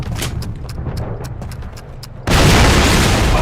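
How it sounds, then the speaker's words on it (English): A cannon fires in a Call of Duty trench battle, a sudden loud boom that cuts in after scattered distant gunfire crackles and then rolls on as a heavy sustained roar. "This cannon's about to go boom!"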